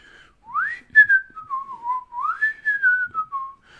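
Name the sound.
whistling imitated by the speaker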